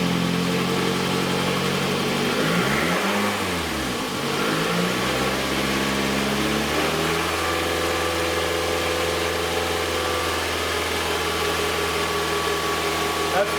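A car engine runs close by; its pitch sweeps down and back up, then it settles into a steady, raised hum held at about 2,500 RPM for several seconds.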